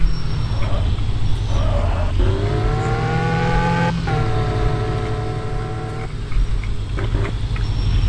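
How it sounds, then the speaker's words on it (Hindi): An old car driving in the video game Car for Sale: a steady low engine rumble that rises into a loud whining rev for a couple of seconds, then settles back, with a few clunks near the end. "वाओ यार है थोड़ी पुरानी गाड़ी है, मगर हमें ऑफिस पहुंचा देगी।"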